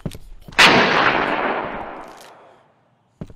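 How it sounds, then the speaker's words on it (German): A single loud gunshot in a horror video game cracks sharply and rings out in a long decaying echo lasting about two seconds, followed by silence and a brief click. "Und die Schüsse sind laut ohne Ende."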